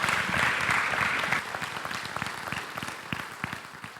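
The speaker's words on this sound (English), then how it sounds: "Give Aaron a big round of applause, man." An audience claps in a full round of applause that starts loud and thick, then thins and softens after the first second or so, continuing as scattered lighter clapping to the end.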